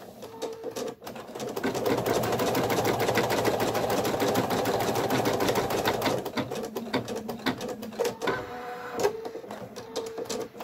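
Viking Designer embroidery machine stitching a placement outline on minky fabric in a magnetic hoop, a steady rapid mechanical chatter lasting several seconds, then slowing into irregular clicks and pauses.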